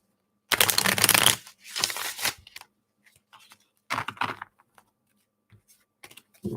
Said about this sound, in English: Let me shuffle a few more times.